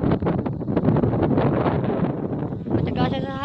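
Strong gusty wind buffets the microphone in an open field while a kite flies. The rough, steady roar stays loud throughout, with voices talking over it and a short whistling tone near the end.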